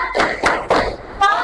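Middle school students clap in a classroom clapping game during an ice-breaker at a group counseling session, giving a few quick, close hand claps mixed with voices.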